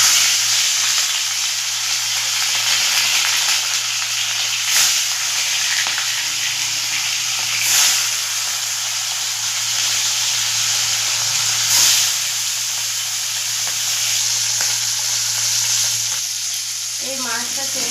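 Small fish sizzle and spatter as they go into smoking-hot oil in a wok, a loud, continuous frying hiss with occasional bursts of crackle close by and no speech over it.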